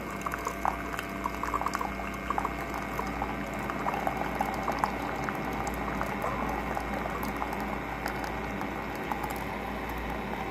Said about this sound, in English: ground coffee blend that is going to go through the K-Cup coffee maker